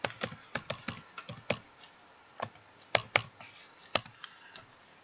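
Keys clatter on a computer keyboard as a username and password are typed, a close, quiet run of irregular clicks in short bursts with small pauses between.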